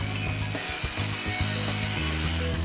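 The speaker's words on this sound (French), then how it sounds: "Percez le béton." A power drill bores into a concrete slab during wooden deck beam installation, a steady loud grinding whine with rhythmic hammering pulses throughout, alone without talk.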